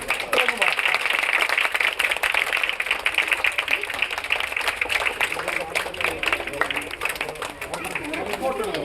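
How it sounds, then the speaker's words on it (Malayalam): An audience at a promotion for the film Innocent, tied to a world record attempt, claps loudly and continuously with brisk, dense applause throughout, while a voice speaks over it. "നല്ല കൈയടി."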